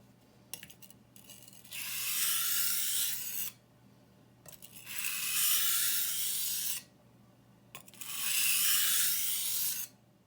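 A knife blade rasps across a sharpening stone in three long, steady strokes of about two seconds each, separated by short pauses, with a few light clicks between strokes.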